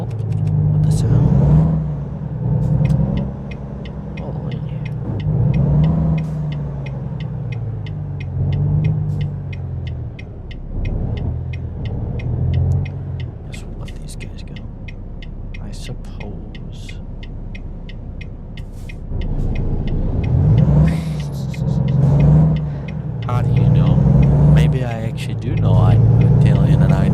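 A truck engine in American Truck Simulator rumbles loudly and unmuffled, rising and falling as it revs and settles, with someone talking over it at intervals.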